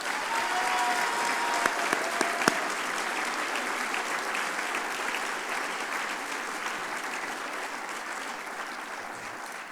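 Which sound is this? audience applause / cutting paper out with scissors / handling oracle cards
audience applause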